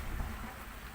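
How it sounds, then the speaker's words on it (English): Rain falls on a boat at sea as a faint, dense hiss of drops, soft and continuous over a brief moment. "Now the rain is tapering off."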